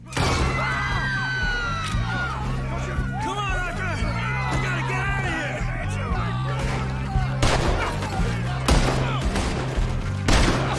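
Gunfire in Red Dead Redemption 2 cracks out in scattered sharp shots, with louder bursts near the end, over steady music and shouting voices.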